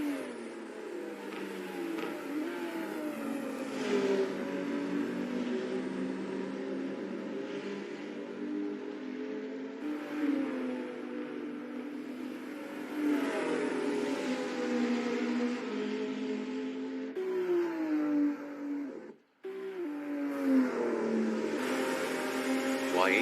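Toyota race car engine in a virtual racing video game, revving hard and holding high pitch through repeated upshifts, with a brief sharp cut near the end before climbing again, loud and continuous.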